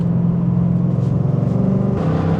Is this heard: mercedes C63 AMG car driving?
yes